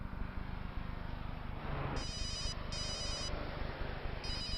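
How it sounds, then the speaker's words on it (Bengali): A telephone ringtone sounds in a televised crime drama scene, three bright electronic ringing bursts repeating over a steady background bed of music and ambience, fairly prominent in the mix. "আকাশ এখন কেন ফোন করছে?"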